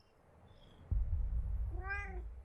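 A cat gives a single clear meow shortly after a dull thump, close by in a quiet room.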